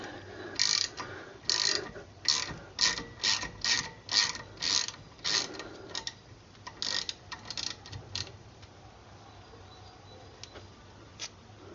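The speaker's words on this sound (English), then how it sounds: "The disc is held on with a small bolt, 5mm Allen key." A 5mm Allen key on a ratchet works a small brake disc retaining bolt loose on a 1990 Mercedes-Benz W124 300CE coupe, giving close, crisp clicking in a steady rhythm of about a dozen strokes, with short pauses between groups.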